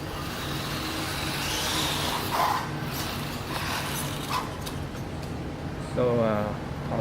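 A JJRC Q39 Highlander four-wheel-drive RC car drives on a test run, its electric motor giving a steady whirring buzz that rises to a brief whine near the end, with a voice speaking over it.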